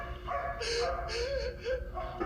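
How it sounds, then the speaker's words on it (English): A dog in the 2018 horror film Hereditary barking and whimpering frantically: rapid, high yips and whines repeating over a tense film soundtrack. "And the dog's going crazy."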